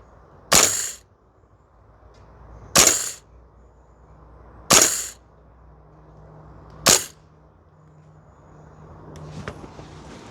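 A VFC L403A1 (KS-1) airsoft rifle fires four sharp, crisp shots at an outdoor range, spaced about two seconds apart, each a loud close snap over a quiet background.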